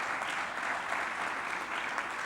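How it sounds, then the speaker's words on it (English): Dense, even applause from a conference audience at a closing ceremony rolls on steadily at moderate volume, with a constant wash of many hands clapping together. "Give them a round of applause,"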